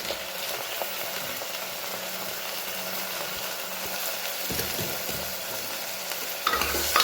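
Potato, eggplant, green garlic and cabbage stirred in a pan over a full gas flame, a steady sizzle with occasional scraping thumps, louder near the end.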